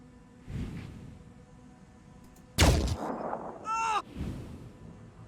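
Pistol shots ring out in the video game Phoenix Point as a few distinct loud cracks, the sharpest in the middle, mixed with whooshing effects and a rising electronic chirp.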